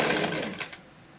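Sewing machine running along the edge of a flared godet dress seam, a steady close whirring burst that cuts off partway through, leaving quiet.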